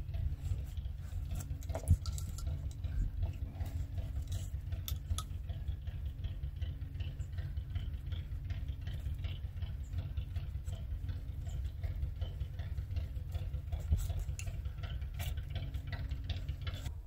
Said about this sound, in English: that noise is an old engine the neighbor has running.